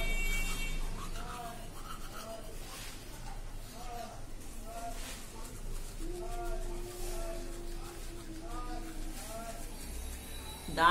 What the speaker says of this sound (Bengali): তো ব্রাশ করতে আমি ভুলে গেছি, এখন করছি ব্রাশ।